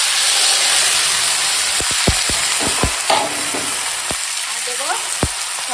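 Marinated meat, tomato and capsicum stir-frying in a pan: a loud, close, continuous sizzle broken by several sharp clicks and scrapes as a spatula works through the mixture.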